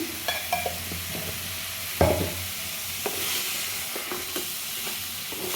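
Crab masala is stirred in a pan with a soft, continuous sizzle, broken by several sharp spatula scrapes and knocks against the pan.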